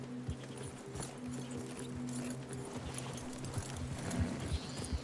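Several horses clip-clop steadily at a walk in the Red Dead Redemption 2 game, a dense, overlapping patter of hooves on ground with low rumbling background tones throughout.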